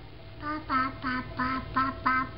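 A toddler voices a chicken imitation as a run of six short, rhythmic clucking calls, close and clear against a faint background.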